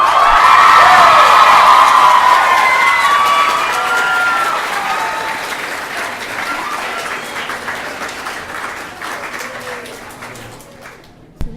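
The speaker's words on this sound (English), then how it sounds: "One more round of applause for Sue." Loud applause and cheering from a live audience in New York, with whoops and shouts over dense clapping at the start that gradually fades toward the end.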